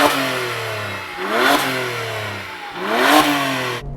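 A BMW 1M Coupe engine revved twice in quick succession, each blip rising sharply in pitch then falling back to idle, loud and close with no talking over it.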